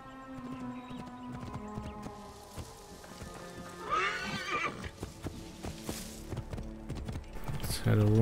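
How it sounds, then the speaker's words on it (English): A horse neighs and whinnies in Assassin's Creed Origins amid hoof clip-clops, game music and sound effects, with a player talking over it; the whinny rises clearly near the middle and the mix swells toward the end. "Call my horse once again"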